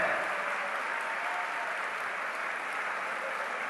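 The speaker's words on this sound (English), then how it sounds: "Huge round of applause for all the interfaith leaders" Sustained applause from a large audience at a world peace and harmony gathering honoring interfaith leaders, a dense, even wash of clapping that holds steady throughout.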